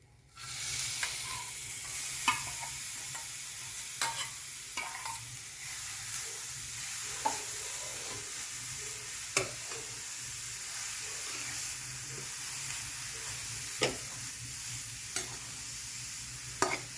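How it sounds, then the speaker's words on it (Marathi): Grated carrot and coconut sautéing in a pan for a ladoo with garden cress seeds: a steady soft sizzle runs throughout, broken by occasional scrapes and stirring clicks, close and moderately loud with no talking. "एक दोन मिनटं परतून घ्यायचं"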